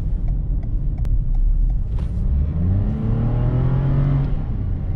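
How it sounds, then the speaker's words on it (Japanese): A Toyota Yaris Cross with a 1500cc gasoline engine accelerates, its engine note climbing steadily in pitch as revs rise, heard loud and close from inside the car with no talk. "アクセルを踏んで、回転数をある程度上げていけば、それなりに加速してくれます。"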